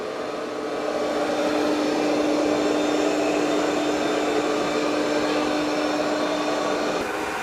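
An ECOVACS DEEBOT T30S robot vacuum working over carpet, giving a loud, steady whirring drone with a constant motor whine that carries on unbroken.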